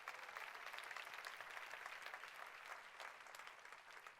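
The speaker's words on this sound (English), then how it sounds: "I think that deserves a big round of applause for Nu Skin" Sustained applause from an audience at a live business presentation, a dense, steady wash of many hands clapping at once that holds at an even level throughout, with no talk over it.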